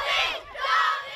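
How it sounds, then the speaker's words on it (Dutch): Primary school children cheering loudly during King Willem-Alexander's visit to Ten Boer, two swelling waves of high-pitched shouting from a close, massed group of young voices. "Onder luid gejuich bracht koning Willem-Alexander dinsdagochtend een bezoek aan Ten Boer."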